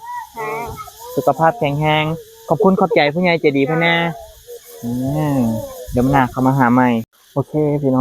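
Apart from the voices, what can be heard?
cicadas buzzing outdoors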